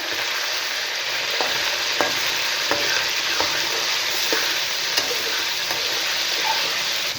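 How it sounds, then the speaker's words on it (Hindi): Chicken frying in a pan with a steady sizzling hiss, punctuated by light scrapes and taps of a utensil at a regular pace. "चिकन को भी हमने कर लेना है फ्राई।"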